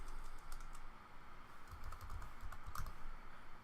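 Quick, light clatter of typing on a computer keyboard, close and fairly quiet, keystrokes coming in uneven bursts with a few firmer taps near the end, no voices.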